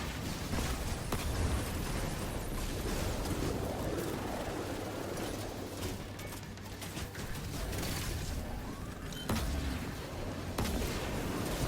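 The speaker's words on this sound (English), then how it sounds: "We get the last 2 rockets in" Rocket blasts and combat din in the video game Destiny 2, fighting a boss in the Dares of Eternity activity on Legend difficulty, heard as a continuous loud wash of explosions and gunfire-like bursts throughout.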